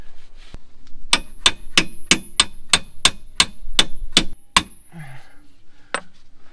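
About a dozen evenly spaced sharp metallic strikes ring out close by as new bushings are driven into a Jeep Cherokee XJ, followed by a brief pause and one last clang.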